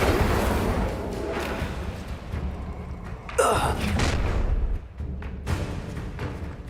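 Incendio fire spell cast in Hogwarts Legacy, a sudden whooshing flare bursting out midway over a rumbling, clattering backdrop of combat noise, with short breathy vocal sounds in the mix.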